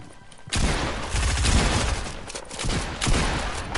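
Rapid bursts of gunfire from a shooter video game, a dense fusillade of loud shots starting abruptly after a quiet moment and continuing with heavy booming impacts throughout.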